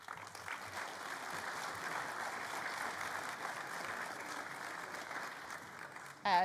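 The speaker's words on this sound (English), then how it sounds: "I think we will do the applause after each group." Steady, dense applause from a party conference audience greets an award presentation, continuing evenly for several seconds at a moderate distance before a brief louder sound at the end.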